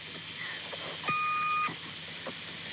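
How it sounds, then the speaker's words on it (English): Electronic transmission beeps on a voicemail recording, a short run of steady synthetic tones, including one longer sustained beep, over a hissy, noisy line. "I got the same boops and beeps, like boop, boop, boop, boop, boop, boop, almost like a transmission was coming through"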